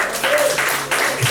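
Church congregation applauding together, a dense steady patter of clapping filling the room at close range, with faint voices mixed underneath.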